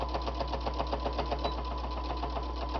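Sewing machine stitching fabric for a bowl cozy heat protector, a rapid rhythmic mechanical whir and needle chatter running steadily at close range, with no talking.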